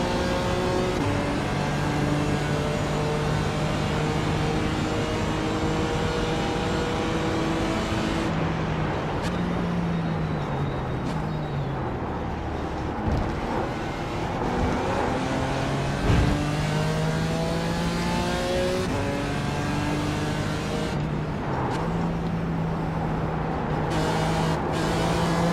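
GT4 race car engines roar in an iRacing league race at Monza, revving up and down through repeated gear shifts and braking for corners, loud and continuous with no talk.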